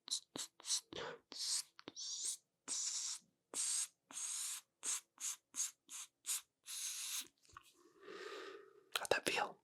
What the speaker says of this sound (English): Spritz.